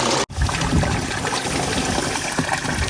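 Water runs steadily through a coffee pulper during bean processing, a continuous trickling, splashing flow that stays close and loud for the whole stretch, broken only by a brief cut near the start, with no talking.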